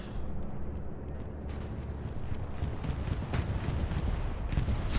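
Bombing-run explosions and distant gunfire rumble continuously on Omaha Beach in Hell Let Loose, a dense battlefield din with repeated sharp cracks and booms building toward the end.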